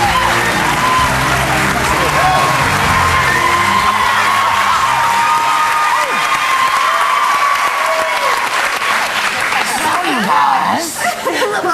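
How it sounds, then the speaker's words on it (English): Studio audience on a daytime television talk show applauding and cheering loudly and steadily, with whoops and some laughter throughout, staying strong until a brief dip near the end. "Let's get a round of applause for Torsten Gray!"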